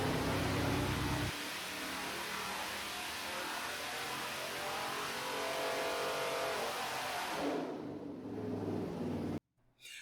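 A Pontiac 400 V8 fitted with a Quick Fuel carburetor revs loudly and steadily for several seconds, then the tone thins and cuts off abruptly near the end.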